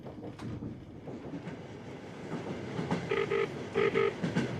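Trans-Siberian Express train running on the line toward Beijing, heard from inside the carriage as a steady rumble with rhythmic clickety-clack, and metallic tones and squeals toward the end.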